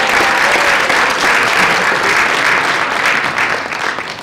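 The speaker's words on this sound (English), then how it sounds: "let's give everybody a round of applause" Loud, sustained applause from a sizable crowd, steady clapping throughout that tapers slightly toward the end.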